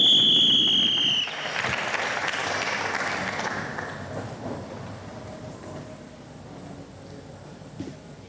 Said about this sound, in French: On acclame très très fort pour la continuité.